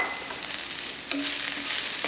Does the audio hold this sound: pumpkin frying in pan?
yes